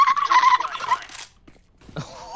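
A man imitates a dolphin with a squeaky, warbling falsetto chatter that runs for about a second. It is fairly close and loud, and a short rising squeal follows after a brief pause.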